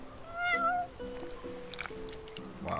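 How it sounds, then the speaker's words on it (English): A cat in Final Fantasy XV gives one clear, drawn-out meow near the start, followed by quiet ambient tones and faint background sounds. "You're one spoiled cat."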